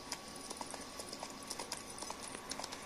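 A horse gallops in The Witcher 3 with rapid, even hoofbeats close by over a low steady rumble, and no talking.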